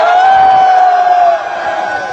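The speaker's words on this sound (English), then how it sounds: "Big round of applause for all vape shops" A loud, close crowd cheers and whoops. A sustained high whistle rides over the first second before the noise settles slightly lower.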